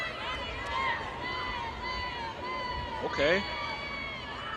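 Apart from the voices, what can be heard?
crowd of fans at ultimate frisbee game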